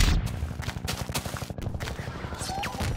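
Rapid gunfire in Garry's Mod, a steady machine-gun-like stream of sharp shots over about three seconds, with a rocket-launcher whoosh toward the end.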